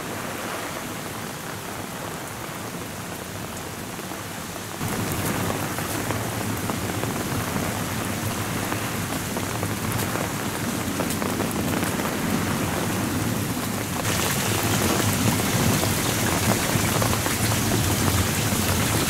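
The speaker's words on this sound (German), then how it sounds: "Die Hagelkörner haben etwas nachgelassen, die Masse an Hagelkörnern." Heavy hail and rain pour down steadily during a hailstorm that is starting to ease, a dense loud patter of drops on surfaces that swells slightly partway through, with no voices.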